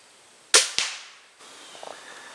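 Arrow released from a hunting bow at a 20-yard target: a sharp, loud snap of the string followed a quarter second later by a second crack, then a quiet faint rustle afterward, no talking.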